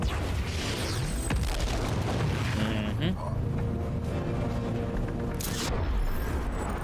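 Rockets striking a Juggernaut suit in Gemini: Heroes Reborn, repeated loud booming impacts over dense rumbling game noise, with someone talking throughout.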